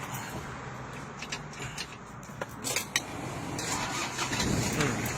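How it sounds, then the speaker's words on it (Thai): A 1997 Toyota Mighty-X pickup truck engine cranks and catches, then settles into a steady mid-pitched idle with some metallic clatter, heard close by. "เดี๋ยวติดเครื่องให้ฟังนะครับ"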